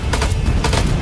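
Gunfire rattles in a firefight from a ridge in the game House of Ashes, a loud, dense burst of overlapping shots with a couple of sharper cracks standing out.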